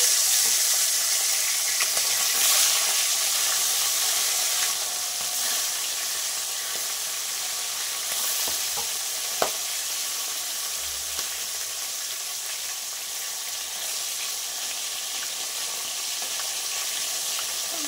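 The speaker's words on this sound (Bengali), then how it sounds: "মাছগুলো এবার ছেড়ে দেবো।" Steady hissing sizzle of fish frying in hot oil, continuous and close, with an occasional faint clink.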